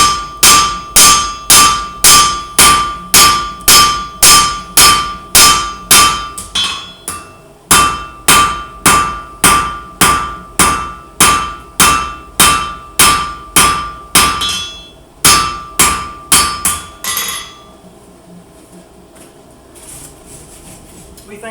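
Hammer blows ring out on a knife blade tang being forged, a fast steady run of sharp metallic strikes with bright ringing overtones, pausing briefly around the middle and trailing off near the end.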